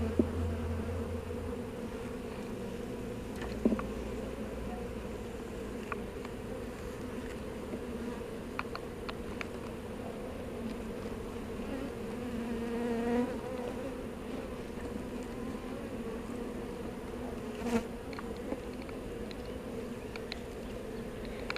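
Honeybees hum in a continuous, fairly quiet drone around an open hive being split, with occasional nearer buzzes and light knocks from handling frames.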